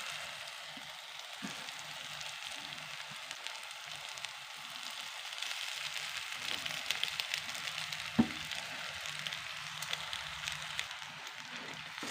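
Grated boiled egg fries with onion masala in a pan for egg bhurji, giving a steady soft sizzle with occasional clicks of stirring.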